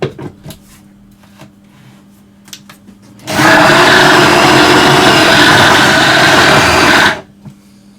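A stand mixer beating eggs for fig roll dough runs loud and steady for about four seconds, starting and stopping abruptly, with quieter bowl-scraping clicks before it.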